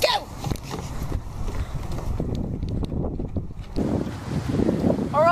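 Strong wind on a beach during a storm buffeting the microphone in a loud, continuous roar, with gusts rising and falling and no clear voices.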